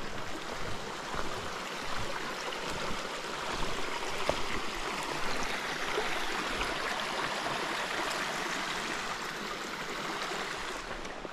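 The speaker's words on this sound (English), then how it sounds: "Just follows this creek." Creek flowing beside a hiking trail on the Appalachian Trail near Matt's Creek shelter, a steady, moderately loud rush and burble of water with no talk.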